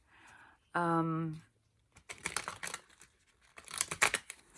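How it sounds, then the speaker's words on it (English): A deck of tarot cards is shuffled close up, crisp papery riffles and slaps in bursts after a short hum and a pause. "I'll just give these a really good shuffle while we talk about that"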